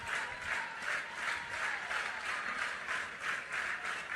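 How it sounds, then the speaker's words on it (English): A crowd at a college softball game claps in a rhythmic, evenly spaced pattern, about two claps per second, moderately loud and steady, with no talk. "Everybody claps."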